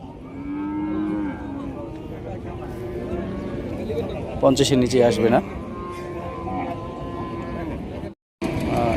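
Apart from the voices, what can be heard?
cattle mooing at a cattle market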